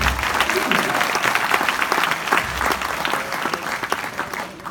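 A conference audience breaks into applause, a dense, fairly loud patter of many hands that holds steady and then begins to thin toward the end.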